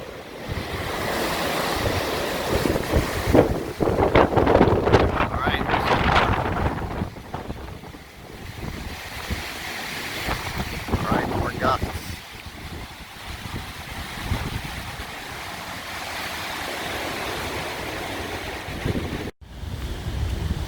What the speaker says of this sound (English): The wind comes and goes. We just get these strong bursts.